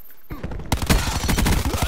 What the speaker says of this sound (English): I'm being shot from behind